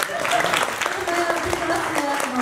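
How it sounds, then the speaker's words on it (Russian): Audience applause at a Russian-language Q&A event, dense clapping throughout with a musical tone and faint voices mixed underneath. "Ваша аплодисменты"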